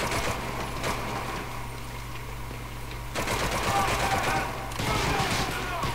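Sustained gunfire in the video game Medal of Honor, set in a port city at night: dense automatic bursts rattle steadily through the whole stretch, swelling louder in two later volleys, with a low engine-like hum underneath.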